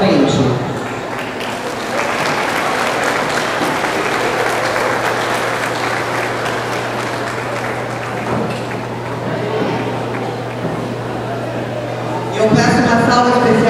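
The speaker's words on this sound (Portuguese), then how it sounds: "Eu peço uma salva especial de palmas" A crowd applauds at the opening ceremony of a gaucho-culture gathering, a sustained, dense wash of clapping held at a steady level for several seconds, swelling louder again near the end.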